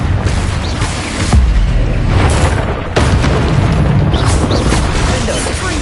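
Confringo fire spells explode in Hogwarts Legacy amid constant combat din, loud booming bursts and sharp cracks layered over a dense, roaring background with no letup.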